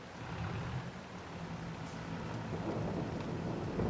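Steady, dense rain from the Farming Simulator 22 video game falls on a farm yard near an awning and a parked baler, a continuous close hiss with a low rumble beneath and no talking.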